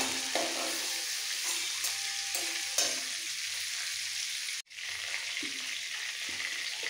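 Prawns frying in hot oil in a pan, a continuous close sizzle with occasional stirring scrapes and one brief drop in sound midway, no talking.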